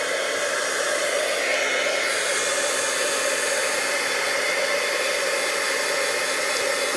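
A heat tool blows continuously while drying watercolor paint, a loud, steady whooshing roar close by with no pauses.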